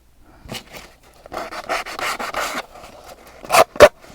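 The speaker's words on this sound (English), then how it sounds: "So I'm going to take my nail file." Nail file rasping across the cover of a small craft mini journal in short, close scraping strokes, an uneven series of rough rubs followed by two sharper swipes at the end, with no voices.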